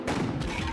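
A single loud, booming shotgun blast from the video game Buckshot Roulette fills the short moment, a dense burst with no voices over it.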